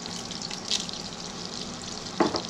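Cloves, green cardamom and cinnamon stick sizzling in butter for butter chicken, a soft steady crackling fry with a brief louder hiss near the end, no talking.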